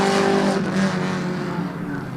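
Kenny Griffith's number 96 race car makes a qualifying run at Midvale Speedway, its engine roaring loud and close, then pitch sliding downward as it fades away.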